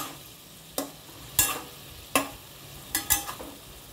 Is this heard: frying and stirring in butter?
yes